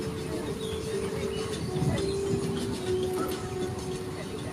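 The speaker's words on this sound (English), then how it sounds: "Welcome back on our tram ride." An open tram rolls through Jurong Bird Park in Singapore, giving a steady rumble and a sustained tonal whine, with faint birdsong in the background.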